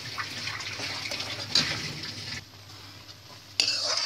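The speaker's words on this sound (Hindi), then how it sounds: "इसे आहिस्ता आहिस्ता भूते रहेंगे" Halwa mixture slowly roasted and stirred in a pan, soft scraping and sizzling close up with a couple of sharper spoon knocks, fairly quiet and without speech.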